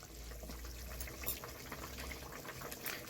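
Pabda fish curry simmering in a pot, a steady soft bubbling and liquid hiss that runs evenly throughout, fairly quiet with no voices.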